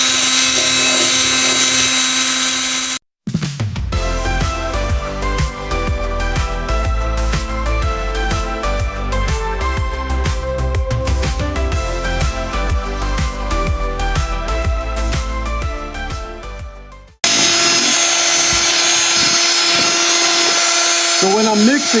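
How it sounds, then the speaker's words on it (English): Cordless drill spinning a standard paint mixer through mold medium, a steady loud whir lasting about fourteen seconds with a brief pause near the start, then cutting off into other noise. "So I got just a standard paint mixer from Lowe's, and I use one of my cordless drills and a timer."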